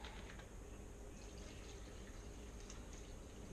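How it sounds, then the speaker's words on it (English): Vinegar poured over a carburetor pilot jet and throttle linkage, a steady close liquid pour and trickle filling a container, with no talk. "Put a little more vinegar on top of that."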